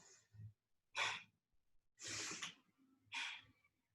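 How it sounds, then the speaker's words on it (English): Forceful exhales and breaths during a breathing exercise: four close breathy bursts, soft in-breaths alternating with sharper pushed exhales, quiet and near, no speech. "And you can even do a forceful exhale."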